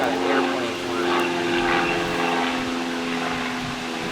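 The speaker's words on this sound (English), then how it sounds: "Got an airplane flying." A light airplane drones overhead on a windy night at a campsite near Burkittsville, Maryland, a steady engine hum with wind noise layered over it throughout.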